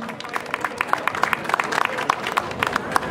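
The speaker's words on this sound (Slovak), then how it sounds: "Poprosím potlesk pre pani Ľubicu Bezekovú." An audience at a panel discussion applauds a speaker, with many distinct claps forming a steady, moderately close round that lasts throughout.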